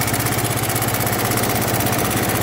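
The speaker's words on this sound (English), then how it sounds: "It's idling at 30 pounds of oil pressure." A Kawasaki FE290 golf cart engine idles steadily nearby, a fast, even putter with a slight vibrating rattle throughout.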